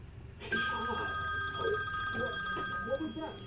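An iPhone 6 rings through its repaired bottom speaker, a bright electronic ringtone starting abruptly and sustaining close and clear, while a person talks over it.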